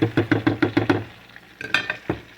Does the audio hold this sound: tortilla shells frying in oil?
yes